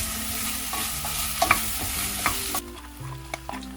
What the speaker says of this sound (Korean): 마늘 한 스푼과 썰어놓은 대파를 넣어 잘 볶아주세요